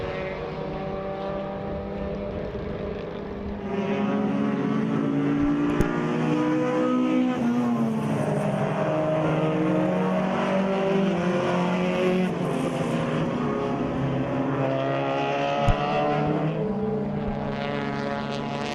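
Race cars at Zwartkops circuit, engines swelling in as a pack of cars comes down the hill, layered revving tones rising and falling as they pass close, sustained and loud with no talk.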